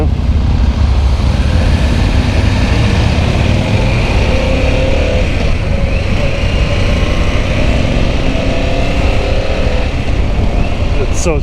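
A 2022 Harley-Davidson Pan America on the move, with steady engine drone and broadband wind rush filling the whole stretch at constant loudness, some gear whine rising and falling midway.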